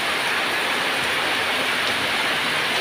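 Heavy rain pours down over a remote village, a dense unbroken hiss of water at constant loudness with no voices, steady from start to finish.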